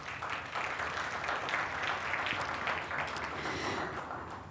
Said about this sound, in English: please, a round of applause for those who make this possible